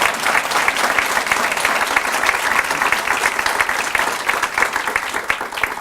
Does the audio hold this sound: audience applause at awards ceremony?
yes